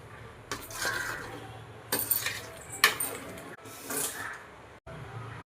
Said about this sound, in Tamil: கொதி வந்ததுமே நல்லா கிளறி விட்டு மூடி வைக்கவும்